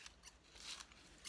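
Soft, quick snips of scissors cutting newspaper into small strips, several close crisp cuts in a quiet room.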